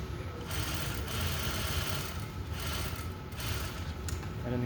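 Sewing machine stitching a shirt, a continuous fast mechanical whir and rattle, steady and close, running without pause and without talk.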